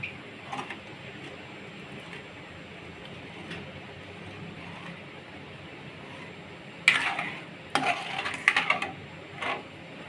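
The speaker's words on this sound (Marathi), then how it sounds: "मी खवा टाकलेला आहे. त्या मिश्रणाला एकत्र करून घ्यायचं." A thick khoa mixture for mawa modak is stirred in a pan, quiet at first, then a cluster of spoon scrapes and metallic clinks near the end.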